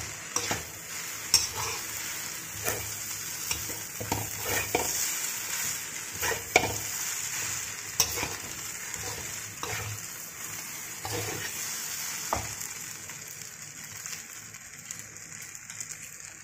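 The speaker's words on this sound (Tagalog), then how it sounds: "Kaya mag-fry tayo ng chicken guys" Chicken frying in a pan, a steady soft sizzle with repeated scraping and stirring clicks from a utensil, fairly close and alone without talk.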